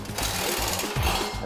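A power saw cuts six inches off the back of a steel header collector, a loud, steady buzzing grind running the whole time with slight surges, close up and with no talk.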